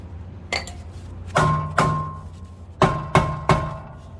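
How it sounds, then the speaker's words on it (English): Rusted rear brake rotor on a 2007-13 Mercedes S300 is struck with a hammer in six sharp metallic blows, loud and close, some ringing briefly, spaced irregularly with short pauses and no talk. "Just bang it on the back end here. Because it's this rust right here."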